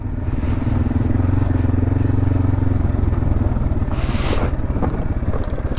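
A MAXXER 300 quad engine drones loudly and close as it drives over rough natural terrain, with rattling and clatter from the bumpy ground and a brief rush of wind or noise near the end.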